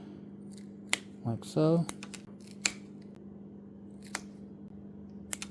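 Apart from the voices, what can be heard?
cutting a heavy-duty toothpick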